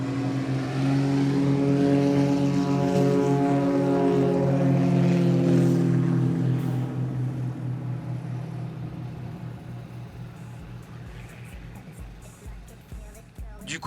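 Propeller-driven Cap 232 and Extra 330 aerobatic planes starting up and departing at an airshow meeting in Sainte-Maxime: a loud steady engine drone with strong harmonic bands that fades gradually into the distance.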